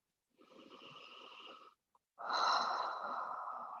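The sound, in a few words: slow, deep breathing during yoga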